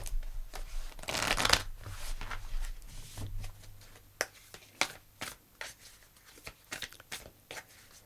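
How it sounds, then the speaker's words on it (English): Tarot cards shuffled by hand, a dense riffling burst early on followed by a run of sharp, separate snaps and flicks as the deck is cut and worked, close and clear with no talking. "let's pull you a destiny card"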